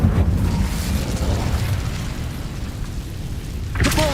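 An Incendio fire spell is cast in Hogwarts Legacy, producing a sustained loud whooshing, roaring burst of flame that rumbles steadily for several seconds, followed by a brief bright crackle at the end.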